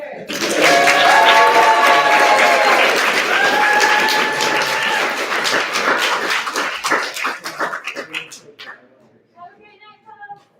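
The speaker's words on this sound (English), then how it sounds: "Another round of applause for both of our" An audience at an evening reading event gives a loud, sustained round of applause for the readers, mixed with cheering and whooping voices. It thins into scattered claps toward the end, and a faint voice is left after it dies away.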